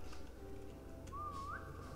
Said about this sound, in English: Wait, whistle.